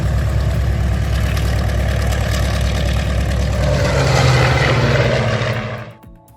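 A massive, rare old engine runs loud and close with a dense, throbbing low-pitched roar and a rapid pulsing beat. The roar swells briefly, then winds down and fades out at the end.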